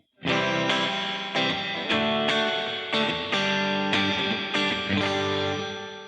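Electric guitar chords strummed in a steady rhythm through a Donner reverb pedal on its plate setting, each ringing out with a smooth, dense plate-style reverb tail, loud and alone.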